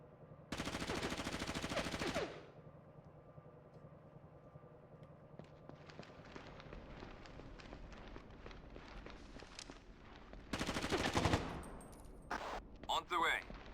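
Video game gunfire: long loud bursts of automatic fire near the start and again later, with scattered shots, footsteps and clatter between them, and voices calling out.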